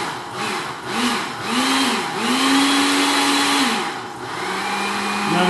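A blender pulses chunks of sweet Sunset Twister pepper soup, several short whirring bursts rising and falling in pitch before a longer steady run, close and loud with no talk.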